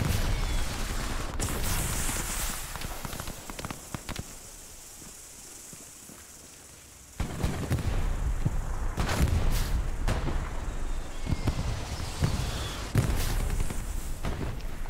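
Loud bursts of artillery and gunfire from a video game match come in rapid volleys, drop to a quieter lull mid-way, then resume strongly with sharp blasts and hissing whooshes.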